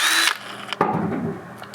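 A power drill spins a rubber paint-removal wheel during truck bodywork on a 2001 GMC Sierra 2500HD, whirring loudly at first, then dropping off as the drill stops, with a sharp knock partway through and a brief burst near the end.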